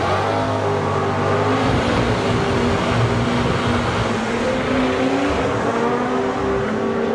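A drag racing car makes a loud, sustained run at the Summer Nationals, its engine roaring continuously with rising and shifting tones and steady crowd-level noise, no talk heard.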